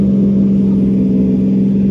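A Lexus GX470 on 35-inch tires pulls a trailer, its engine holding a loud, steady, droning hum close to the listener without any break.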